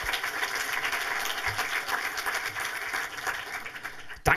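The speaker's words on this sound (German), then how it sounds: "Auch nochmal ein Applaus." Sustained applause from a cinema audience at a film talk, a dense, steady wash of many hands clapping at moderate distance that fades slightly toward the end.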